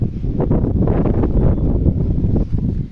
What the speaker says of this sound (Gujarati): જો પવનનો અવાજ આવતો હોય છે.